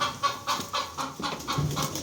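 Young chickens and fowl cluck in quick repeated bursts inside a coop, the calls close and steady throughout with no talk.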